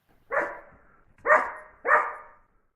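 A dog barks three times in a steady sequence, each bark loud and full with a short tail, played back from a recorded dog clip, with no talking over it.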